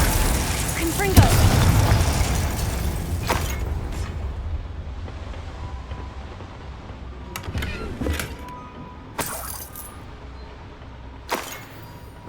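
A Confringo blasting spell explodes in the Hogwarts Legacy video game with a loud boom and rumble that tapers away over several seconds. Scattered sharp clicks and smaller impacts follow at a distance.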